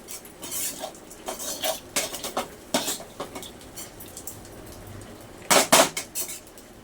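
Metal spoon scraping and clinking against a pan while leftover rice is stirred on the stove, a run of irregular clatters with a sharper, louder burst of scraping near the end.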